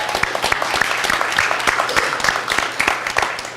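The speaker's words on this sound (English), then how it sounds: "let's hear some applause to them." A community meeting audience claps for the volunteers who keep the group running, brisk applause from a modest crowd with sharp individual claps standing out close by, steady throughout.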